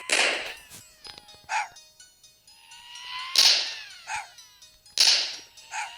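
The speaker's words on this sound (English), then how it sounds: "Why does he make dog noises?" A video game character making dog noises, sharp barking yelps and whines in bursts of two or three, mixed with synthetic sweeps and whip-like cracks, no talk.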